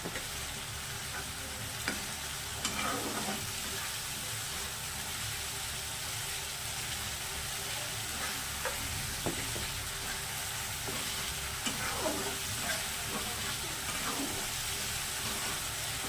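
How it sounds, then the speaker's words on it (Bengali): Masala spices stirred and fried in a pan for chicken biryani: a constant close hiss of frying with occasional spoon scrapes against the pan, no voices. "মশলাটা ভালো করে একটু নাড়াচাড়া করে নিচ্ছি"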